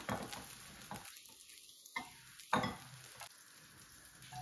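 Food fries in a pan with a soft sizzle broken by brief pauses and sudden bursts, quiet and close, with faint stirring scrapes.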